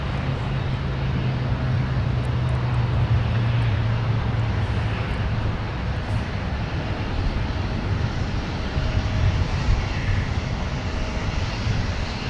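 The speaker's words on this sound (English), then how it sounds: "here's Southwest now arriving from Denver" A Southwest airliner arriving from Denver at MSP airport, heard as a steady broadband jet roar with a low engine hum, holding at a constant level throughout without talk.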